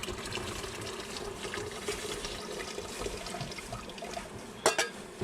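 Steeped tea poured from a pitcher into a container in a home kitchen, a steady close liquid trickle and splash running throughout, with a brief sharper splash near the end.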